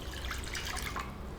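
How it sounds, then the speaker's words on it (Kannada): Boiled beetroot water, poured into a pan for beetroot rasam, makes a soft, faint trickle with light dripping over a little more than a second. "ಈ ಬೇಯಿಸ್ಕೊಂಡಿರುವಂಥ ಬೀಟ್ರೂಟ್ ನೀರನ್ನು ಹಾಕ್ತಾಯಿದ್ದೀನಿ"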